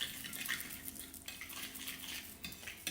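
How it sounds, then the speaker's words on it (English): A fork beats an egg on a plate with quick, light metallic scrapes and taps in an irregular steady rhythm, faint and close, with no talk. "just using my fork, I'm just going to beat the egg"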